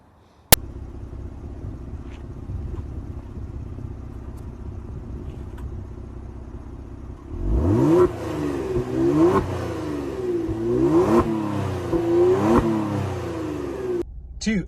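A 3.3-liter twin-turbo V6 in a 2020 Kia Stinger GT idles with a low steady hum, then surges loudly, revving up and shifting through several rising pulls close by.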